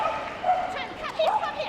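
A dog yips and barks at a Crufts agility team final in 2015. The short excited calls are heard over a commentator's voice and arena noise.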